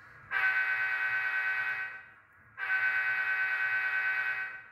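An HO scale model locomotive fitted with ditch lights sounds two long, steady horn blasts, close and loud, separated by a short gap.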